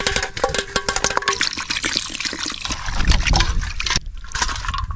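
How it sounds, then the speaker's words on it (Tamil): Water pours and splashes over about a kilogram of raw chicken being rinsed in a kitchen, giving an uneven, close-up sloshing and trickling with a short pause near the end. "தண்ணி ஊற்றி நல்லா அலசிக்கிறலாம்"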